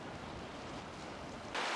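Ocean waves wash against rocky shore beside a cliff walk trail, a steady broadband rush with wind buffeting the microphone, swelling louder near the end, no voices.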